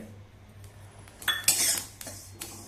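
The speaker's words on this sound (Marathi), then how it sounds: "सगळं चांगलं मिसळून घेऊया आणि चांगलं भाजून घेऊया" Sesame seeds and shahjeera are dry-roasted and stirred in a pan, with soft scraping broken by several sharp metallic clinks and knocks of a spoon against the pan.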